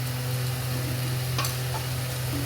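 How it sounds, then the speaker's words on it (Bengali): A spice paste fries in mustard oil in a pan for the vegetable dish tel potol, with a soft steady sizzle over a low hum and a few faint clicks of a utensil. "এবার এর মশলাটার উপরে আমি আর একটু তেল ছড়িয়ে দিচ্ছি।"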